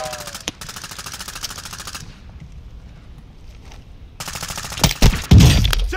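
Bursts of automatic gunfire in the video game Warzone 2: sustained rapid volleys, a pause, then more loud rattling fire with heavy close impacts near the end.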